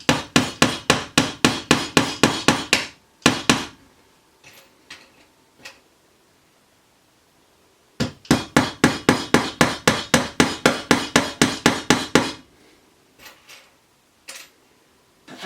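Pins being hammered into pre-drilled holes like nails while building a small lure rotator: two rapid bursts of about a dozen sharp, evenly spaced hammer blows each, separated by pauses with a few faint taps, close and loud with no talking.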